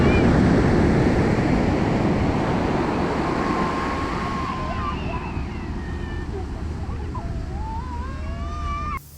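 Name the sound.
ocean waves at Manoda Beach, Karachi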